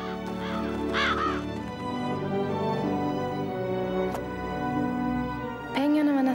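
Ravens caw loudly in a few harsh, wavering calls, near and clear above a steady background with music, in an animated scene.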